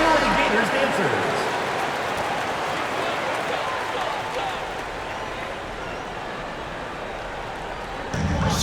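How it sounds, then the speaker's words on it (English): Crowd applause for the Florida Gators dancers in a basketball arena during a PBA semifinal game, a broad roar of clapping and cheering under an announcer's voice that thins out and fades toward the end. "Let's give it a round of applause for the Florida Gators dancers."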